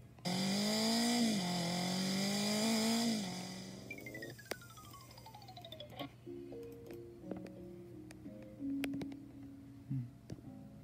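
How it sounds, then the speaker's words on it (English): A motorcycle engine revs loudly and steadily for about three seconds, with a rising and falling pitch, then fades out. Scattered clicks and short tonal beeps from a toy-like musical sound follow. "Motorcycle."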